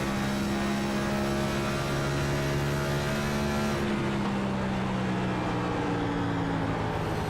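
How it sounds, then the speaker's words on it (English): A NASCAR race car engine in the iRacing video game at Nashville Superspeedway holds a loud, sustained high-revving whine, then the revs drop off abruptly about halfway through as the driver backs out of the throttle, leaving a lower, steadier engine drone. "listen for that when he backs out of the throttle and possibly shuts down the engine"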